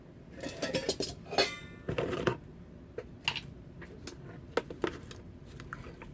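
Metal camping cook kit utensils and pots from a Kelly Kettle set clinking and clattering as they are set up outdoors, a busy burst of clinks at first easing into sparse, close taps.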